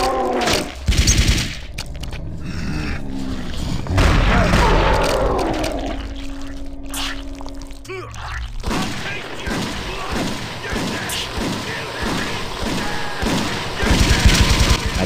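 Gunfire from a weapon in Blood II: The Chosen, with heavy thuds and booming shots early, then a steady string of rapid, evenly spaced shots in the latter half, loud and close, mixed with game sounds.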